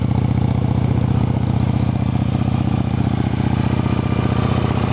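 Up close, a Honda Shadow ACE VT750CD2 motorcycle on its factory exhaust idles with an even, loping low thrum that holds steady throughout, with no voices over it.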